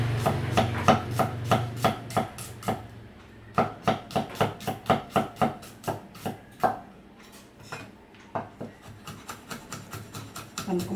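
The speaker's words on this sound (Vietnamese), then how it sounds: "Mình cũng bằm tỏi ớt mình bằm chung luôn nha" Knife mincing garlic and chili together on a cutting board, a long run of quick, crisp chops in steady bursts with short pauses, close and fairly quiet.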